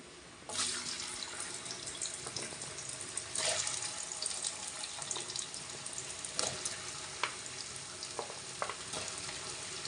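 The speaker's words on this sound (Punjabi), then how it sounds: "ਇਹਨਾਂ ਨੂੰ ਆਪਾਂ ਚੰਗੀ ਤਰ੍ਹਾਂ ਫਰਾਈ ਕਰਾਂਗੇ ਜਿਵੇਂ ਪਕੌੜੇ ਬਣਾਉਣੇ ਹੁੰਦੇ ਆ" Taro root (arbi) pieces fry in hot oil, a dense continuous sizzle with occasional louder crackles and spits, close and steady for the whole stretch.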